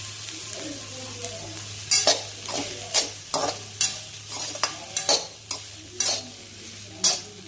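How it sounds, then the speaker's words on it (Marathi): Okra (bhendi) frying in a pan with green chillies and salt, stirred with a spatula in a series of distinct scraping strokes about every half second over a continuous sizzle, close and clear, with a low steady hum underneath. "जेणेकरून सर्व मिक्स होईल अशा पद्धतीने भेंडी हलवून घ्यायची"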